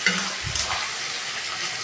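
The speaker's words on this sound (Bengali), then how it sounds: "আমি এবার পেঁয়াজ ছাড়ছি, পেঁয়াজ ভালো করে ভাজা করে নেবো" Onions frying in a pan as part of a chicken recipe, giving a steady broadband sizzle with a couple of soft stirring knocks near the start, close and moderately loud throughout.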